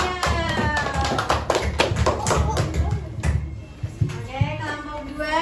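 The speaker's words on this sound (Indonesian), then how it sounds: "tepuk tangan buat kelompok hijau" A classroom full of students gives a round of applause for the green group, a brisk burst of overlapping claps and taps with voices chattering around it.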